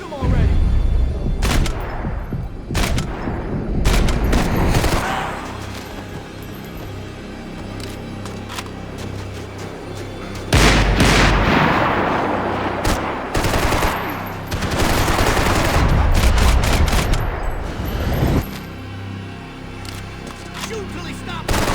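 Gunfire from the video game Max Payne 3: repeated bursts of loud, rapid automatic shots and single cracks come in clusters with short lulls, under tense in-game action.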